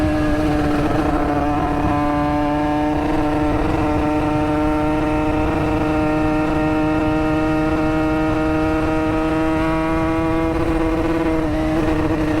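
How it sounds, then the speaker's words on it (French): A motorcycle engine runs loud and steady at a constant idle-like pitch, a close continuous drone with a slight rise near the end. "Comment je suis doux avec cette moto"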